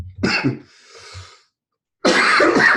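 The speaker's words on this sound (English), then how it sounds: "I'm very sorry for the coughing." A harsh cough up close, a short breathy pause, then a second louder burst of coughing.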